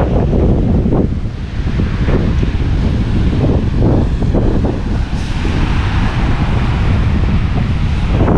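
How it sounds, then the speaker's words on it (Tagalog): Strong, cold wind at the sea roars and buffets the microphone continuously, with the wash of surf faintly beneath the gusts. "ang lakas ng hangin, ang lamig"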